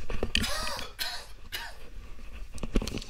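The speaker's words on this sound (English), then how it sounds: "Excuse me, I got a cough there." Several harsh coughs and some throat clearing in short bursts, close by, separated by quiet pauses.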